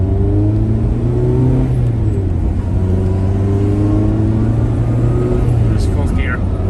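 Honda CRX engine accelerating in fourth gear, heard from inside: a steady, loud droning hum with layered tones that slowly climb and settle.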